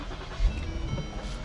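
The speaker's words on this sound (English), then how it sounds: "all that I need to do to check if the rear sensor speaker is working is just go ahead and start the car" A Lincoln MKS engine starts up, its low rumble rising briefly near the start and then settling into a steady, close idle with no voices.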